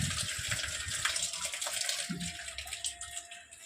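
Water runs steadily from a tap over food being rinsed in a Bengali home kitchen, a continuous gushing splash that stays fairly even and close throughout.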